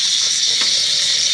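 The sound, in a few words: rinsing hair with cool running water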